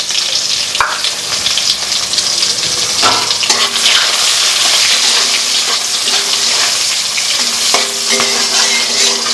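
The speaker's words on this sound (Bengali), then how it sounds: "এইবার আমি দিয়ে দেব কিছু কুচানো পেঁয়াজ" Chopped onions hitting hot oil with panch phoron in a home kitchen, a loud steady sizzle and crackle with occasional clatter of stirring and spoon knocks, close and continuous with no talk.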